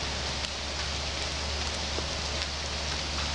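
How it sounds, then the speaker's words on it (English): Steady soft rain falling, a constant gentle wash of drops with a low hum underneath, no voices. "And it's raining right now."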